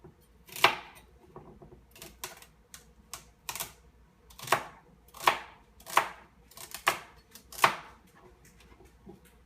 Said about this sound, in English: I'll just chop them up and throw them in.